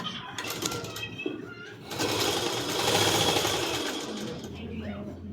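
Sewing machine stitching a body skirt in a tailoring class, a steady mechanical whir that starts softer and swells louder after about two seconds, running continuously with faint bird calls in the background.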